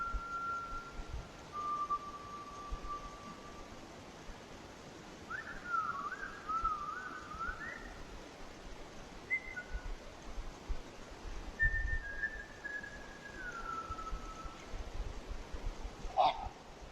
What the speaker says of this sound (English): You can hear what sounds like distant whistling in the woods behind her home